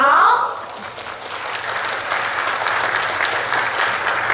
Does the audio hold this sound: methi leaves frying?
no